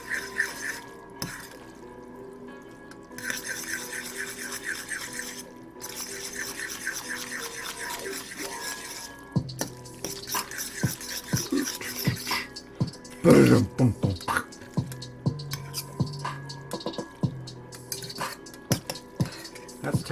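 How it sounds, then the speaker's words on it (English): Ottogi Jinjja Jjolmyeon cold noodles with mayonnaise being stirred in a bowl, wet slapping and scraping of utensils, near and intermittent, with a louder clattering burst in the middle and a voice talking at times. "Let's give it a stir."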